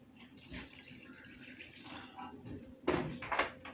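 Milk poured into a casserole mixture in a kitchen, a soft liquid pour running steadily, then louder splashy bursts near the end, close by and without talk.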